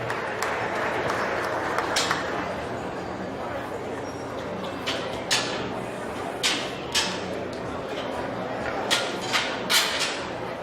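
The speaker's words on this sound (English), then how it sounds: "Give them a good round of applause if you could" Audience clapping at a county fair swine show, a steady wash of applause with sharper bursts of claps scattered throughout, heard at a distance in a large arena and mixed with crowd murmur.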